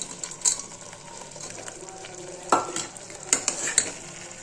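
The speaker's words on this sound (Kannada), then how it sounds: "ಫ್ರೈ ಮಾಡಿ ಇಟ್ಕೊಂಡಿದ್ದ ಗೋಡಂಬಿ ದ್ರಾಕ್ಷಿ ಎಲ್ಲ ಹಾಕತ್ತೀನಿ" Pumpkin halwa is stirred in a pot as fried cashews and raisins go in, a soft bubbling hiss under a few sharp spoon scrapes and clinks, close and fairly quiet, with no talking.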